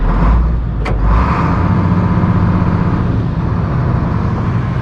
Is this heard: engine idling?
yes